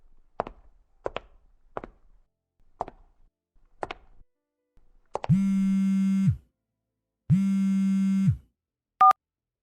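A phone call being placed: a run of sharp taps or clicks, then two long, steady ringback tones separated by a pause, ending with a short high beep. No voices.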